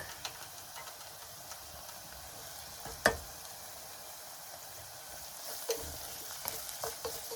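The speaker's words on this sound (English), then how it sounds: "So guys, in goes the garlic. That's the garlic." Garlic sautés in a pan with onions for tomato soup, a faint, steady sizzle with an occasional sharp clink of a utensil against the pan.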